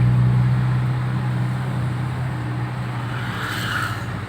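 A Toyota Kijang fitted with a Blackcore part accelerates in third gear, its engine drone steady and loud from inside the car, easing slightly as it pulls, with no talk.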